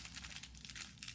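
A Cry Baby sour candy wrapper crinkles faintly and close by in short, rustling bursts as it is pulled open.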